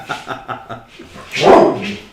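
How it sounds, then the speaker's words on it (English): A dog gives a quick series of short, sharp yips up close, followed by a louder, drawn-out bark or howl. "That dog barks all the time."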